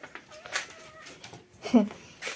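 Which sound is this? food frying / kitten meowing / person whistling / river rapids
kitten meowing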